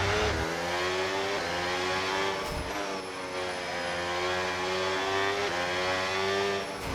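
An F1 race car engine in the video game F1 26 screams at high revs with steady harmonic tone and brief gear-shift dips, tires sliding through corners, loud and close with no talking.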